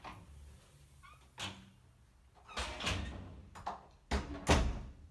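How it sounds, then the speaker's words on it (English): Front door of a house opening and closing, heard as a quiet series of clicks, knocks and thumps spread over several seconds, with a couple of sharper bangs near the end. "Close the door."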